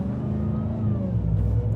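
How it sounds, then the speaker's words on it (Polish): A RAM 1500 TRX pickup, off-road, with a steady, loud engine drone and a rising supercharger whine running close and continuous, and no talking. "Ależ pięknie jęczy ten kompresor."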